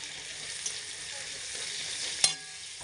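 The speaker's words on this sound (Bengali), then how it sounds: "এবার দিয়ে দিচ্ছি চিনি লাল ভাজা হবে পেঁয়াজটা লাল হয়ে হলে মশলাগুলো দিয়ে দেবো" Onions with added sugar frying in a pan for a prawn, potato and pointed gourd curry, giving a quiet, steady sizzle with one sharp clink of a utensil near the end.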